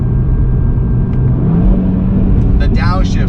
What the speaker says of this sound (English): I have a stock exhaust on here, and I can hear a little bit of burble.